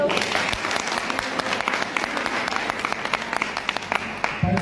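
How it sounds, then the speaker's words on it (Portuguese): A crowd at a church-style gathering breaks into sustained, loud applause, a thick wash of claps that holds steady throughout, with some voices faintly mixed in beneath. "Uma salva de palmas para Deus."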